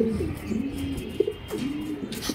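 A racing pigeon coos in low, soft rolling phrases at close range, several short bursts over a quiet loft background with no talk.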